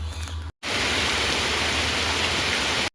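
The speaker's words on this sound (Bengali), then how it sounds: "দেখতেই পাচ্ছ ঝড় বৃষ্টির মধ্যে আমরা আটকা পড়ে গিয়েছি" Heavy storm rain pours steadily and loudly near a roadside snack shop, a dense unbroken roar that begins after a brief pause following a quieter opening moment.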